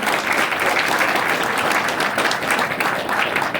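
A crowd at a groundbreaking ceremony claps steadily for student veterans, a dense, even wash of applause that carries through the whole few seconds without pause.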